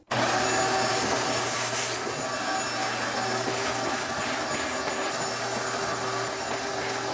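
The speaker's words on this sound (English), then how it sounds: "Before you lay down the hardy backer, make sure you vacuum so your subfloor is clean." A vacuum cleaner runs steadily over a bare subfloor being prepared for tile backer board, with a constant close motor drone and airy suction hiss for the whole stretch and no talk.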